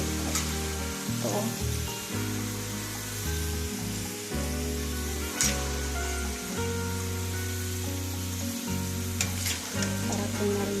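French fries and chicken wings sizzle and crackle loudly in hot frying oil, a dense steady hiss with occasional stirring clatter, close up and without speech.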